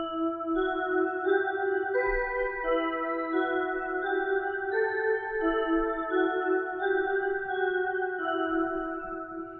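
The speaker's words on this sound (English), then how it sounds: "I have some chimes right here." Bright, ringing chimes from a free synth patch, with overlapping bell-like notes sustaining and decaying in a steady cascade over a faint low bed, clear and moderately loud with no voice.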